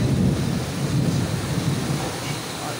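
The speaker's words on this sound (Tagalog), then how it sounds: "Narinig ko naman, lakas ng kulog." Steady roar of heavy rain with a deep rumble of thunder, heard from indoors at a water refilling station; the downpour stays loud and continuous throughout with no voices.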